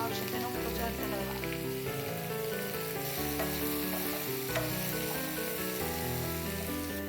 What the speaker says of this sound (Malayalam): സബോള നന്നായി മുരിയാൻ വേണ്ടിയിട്ട്